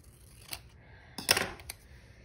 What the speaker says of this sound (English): Scissors. So I'm just going to cut it in half